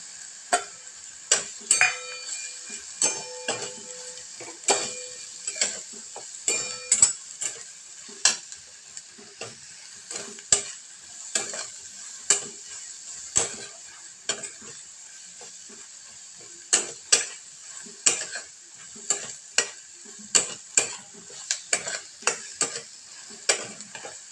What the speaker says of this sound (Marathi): आपण याच्यामध्ये मसाले ॲड करणार आहोत आपण याच्यामध्ये मसाले ॲड करू